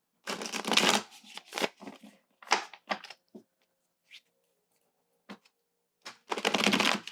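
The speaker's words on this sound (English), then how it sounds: "Let me pull the spirit animal card, because I got this sudden urge to pull a spirit card" Spirit animal oracle cards are shuffled and pulled in uneven bursts of riffling and flicking, with sharp isolated card snaps between them and a longer shuffle at the end, close and fairly quiet.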